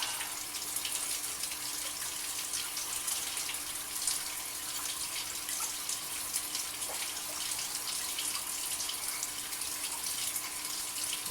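Old aquarium tank water pours steadily from a 5-gallon bucket, making a continuous splashing gush that stays even from start to finish, with no speech.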